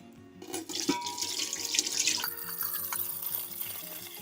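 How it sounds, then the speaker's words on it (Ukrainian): Tap water runs and splashes into a glass jar being rinsed at a sink after wine is poured off, a close, gurgling flow that starts and then settles into steady filling, with no talking. "банку сполоснемо водою"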